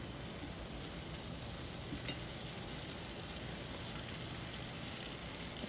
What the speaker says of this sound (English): And then just mix it up a bit so that the flavors are thoroughly mixed together.